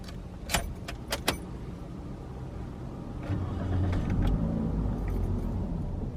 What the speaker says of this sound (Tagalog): So, i-under ko na yung sasakyan.